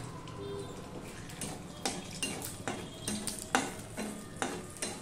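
Dried red chilli, cardamom pods and cinnamon pieces sizzle in hot oil for a tempering, with a steady crackle and several sharp scrapes of a spoon stirring against the pan.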